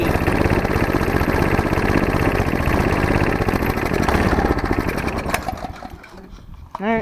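A snowblower engine with an idle problem runs loud and close, a steady buzzing drone that wavers and falls off near the end, where the revs sag unevenly as it struggles at idle.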